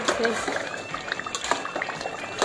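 Shahi gosht meat cooking over low to medium heat, a steady bubbling and sizzling with crackles close to the pan, continuous throughout.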